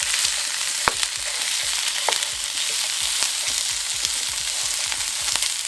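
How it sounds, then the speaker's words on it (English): Impossible Burger ground meat browns in a pan with a steady, loud sizzle and frying crackle, broken by occasional sharp pops and faint stirring scrapes. "add your ground Impossible Burger. You want to brown it up."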